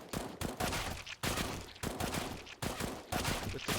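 A FAMAS rifle in CS:GO fires a string of short, sharp bursts at an even pace, each cluster of rapid shots separated by brief pauses, with no voice over them.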